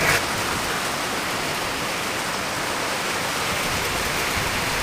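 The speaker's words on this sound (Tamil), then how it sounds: "நல்ல மழை பெய்யுதுங்க" Heavy rain pouring down in a steady, dense, even hiss that is loud and close, with no voices over it.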